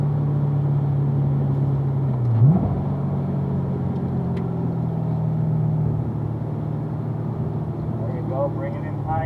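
A car driving around a track at a Ron Fellows performance driving school, its engine holding a steady droning rumble that dips and climbs briefly partway through, then carries on with an even continuous tone close by.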